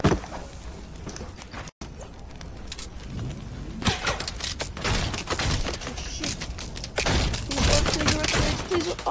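Gunfire sprays the player in an online shooter game, heard as dense, sustained bursts of shots and impacts that drop out briefly, then come back louder and nearly continuous.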